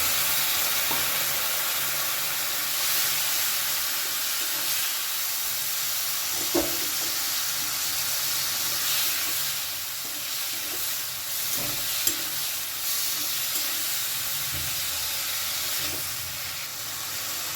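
Pointed gourd and vegetables sauté with coriander powder and a splash of water, giving a continuous broad sizzle and hiss with occasional faint stirring knocks, steady throughout with no voices.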